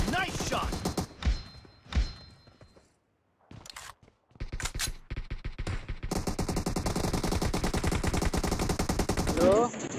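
Gunfire in a PUBG Mobile team deathmatch, single shots followed by a brief silence and then long rapid automatic bursts, loud and close, with a player's voice in places.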